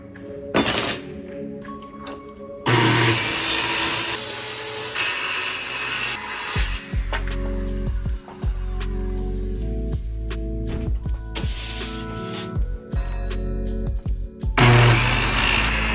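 A power tool drives screws through plywood into the sleeping-platform frame in the bed of a second-generation Toyota Tacoma. It comes as loud, close bursts of whirring and grinding, with short pauses and wooden knocks between them.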